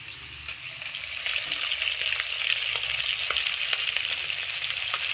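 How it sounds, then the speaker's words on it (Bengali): Hilsa fish frying in oil gives a loud, continuous sizzle with fine crackles and spits, quieter for the first second before settling into a dense, steady hiss. "মাছ ভাজা হচ্ছে"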